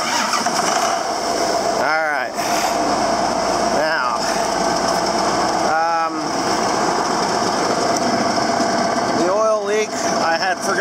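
A John Deere 7410 tractor engine runs steadily throughout with its transmission engaged, a loud continuous mechanical drone broken by a few short rising whine bursts, with talking heard over it.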